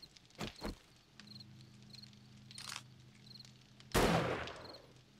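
A single loud gunshot fired in the zombie survival game 7 Days to Die, aimed at a screecher on a hillside; a sharp blast with a short decaying tail that stands out over a quiet ambient background with faint insect-like chirps.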